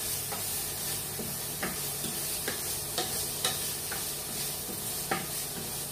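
Chorizo and lardons sautéing in a pan over lowered heat, a steady low sizzle with a utensil scraping and stirring at irregular intervals, no voices.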